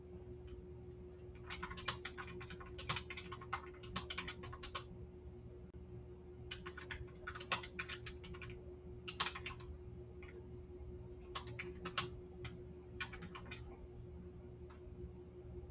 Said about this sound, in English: The screen is gonna shake a little bit because I got to do some typing.